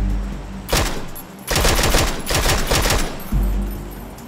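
Bursts of automatic gunfire in the battle royale game PUBG, loud and close, coming in three rapid strings separated by brief pauses.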